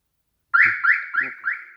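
StarLine car alarm key fob beeping during programming with the ignition key inserted: four rising electronic chirps in a steady rhythm, loud and close, with no talking.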